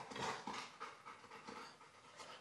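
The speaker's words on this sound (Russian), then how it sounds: "У меня тут собака." A dog pants in quick rhythmic breaths, soft and close, repeating steadily with no other sound.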